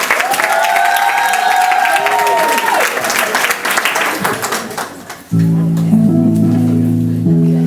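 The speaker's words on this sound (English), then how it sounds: "Can I get a round of applause?" An audience applauds and cheers at a rap performance, with dense, loud clapping and whoops from the crowd. After about five seconds, a music track cuts in over the continuing applause.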